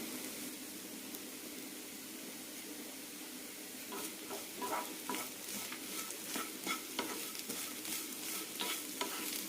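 Banana stem chutney mixture sautéing in a pan: a steady soft sizzle with repeated scraping and stirring strokes growing busier in the second half, close and moderately quiet.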